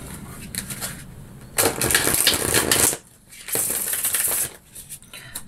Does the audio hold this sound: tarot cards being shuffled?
yes